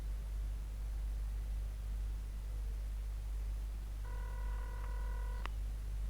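A telephone being dialed in the X-Files game: a short run of steady tone beeps rising out of a constant hum and hiss, faint and brief toward the end, with no talking.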